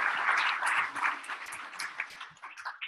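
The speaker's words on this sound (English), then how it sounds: "another round of applause" An audience at a Canterbury tech community monthly event applauds in a dense burst of clapping that thins and fades over about three seconds.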